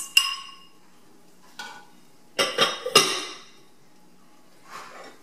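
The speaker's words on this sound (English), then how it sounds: "Next, you will see me add our diced tomatoes." Diced tomatoes going into a pot of ground chicken chili: a few separate clinks and soft wet plops, close and fairly loud, with short quiet stretches between them.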